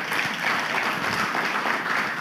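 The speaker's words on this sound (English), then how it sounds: "So let's give them a round of applause." Steady, full applause from a cowboy church congregation meeting inside a livestock market, a close, continuous crowd clapping that fills the whole short moment.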